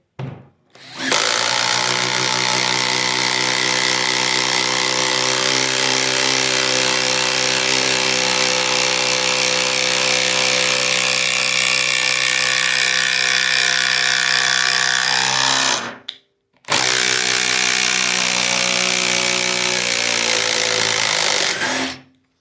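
Milwaukee M12 Gen3 impact driver sinking an 8-inch by 5/16 structural screw into wood, a loud sustained rattling hammer and motor whine lasting many seconds, one short pause, then another long burst before stopping.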